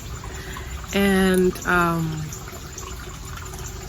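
Water pours into a mug at home in two short splashing gushes with a shifting tone, while a voice is briefly heard nearby.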